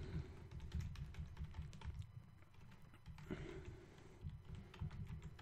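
Quiet, rapid clicking of computer keyboard keys while a name is typed in during a Linux installation, a continuous run of soft taps with brief pauses.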